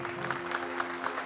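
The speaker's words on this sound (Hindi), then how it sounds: "जोरदार तालियां बजाएं" Quiet audience applause for a stage magician's assistant in a television drama, a faint, brief patter of clapping at a distance.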